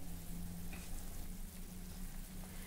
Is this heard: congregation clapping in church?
no